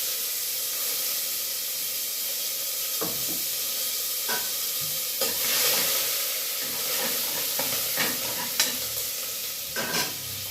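Ginger, curry leaves and green chilli fry in hot oil with a continuous hissing sizzle, broken by repeated scraping stirs of a spatula against the pan, close and fairly loud.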